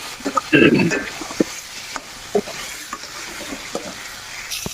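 A spice paste is stirred and sautéed in a pan with a close, crackling sizzle. A loud scraping burst comes early, followed by sparser clinks and stirs.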